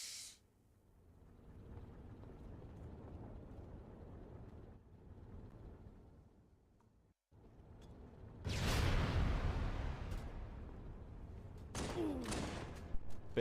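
Gunfire in a Halo game session, a sustained loud burst of rapid shots rising midway with a hissing wash, then a few sharper cracks near the end, with no talk over it.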